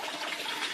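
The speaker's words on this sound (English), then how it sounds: "So the water starts in the sump, gets pumped out to the grow bed." Water gushing steadily into a hydroponics grow bed, pumped up from the sump below, a continuous close rushing and splashing flow with no pauses.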